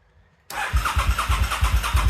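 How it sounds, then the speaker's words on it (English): A motorbike disabled by an ImmoTrack Secure immobiliser is cranked on its starter, which begins abruptly and turns over in a quick, regular, close chugging rhythm that does not catch and run. "You want to try and start the bike now?"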